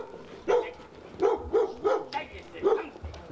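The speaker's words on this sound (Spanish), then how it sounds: "Cuidado con el perro." A dog barks about five times in a steady series of short barks, moderately near, with no talk over it.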